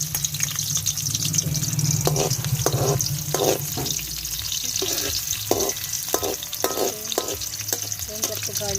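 Chopped onion sizzles in a hot pan for chicken curry, a continuous crackling fry broken by rhythmic scraping strokes of stirring, close and fairly loud.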